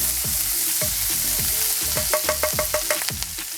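Garlic frying in butter in a pan gives a constant close sizzle, with a rapid run of repeated scraping and stirring strokes that quickens toward the end.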